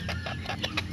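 Golden Sebright bantam chickens give a quick run of soft, close clucks in about a second, set against a steady low background hum.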